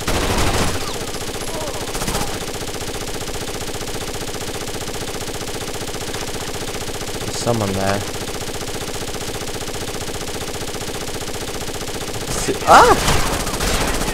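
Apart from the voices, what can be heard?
gunfire in video game Rainbow Six: Las Vegas 2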